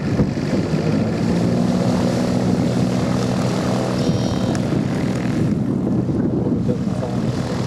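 A light aircraft engine turning an Aeroprop propeller roars steadily and loudly during a test run, a continuous close drone with a throbbing propeller beat that barely varies in level.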